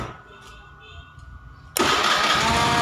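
A Honda Beat FI scooter with a faulty starter and rewired starter circuit, quiet at first with a click, then the starter suddenly kicks in and the engine cranks loudly and continuously to the end.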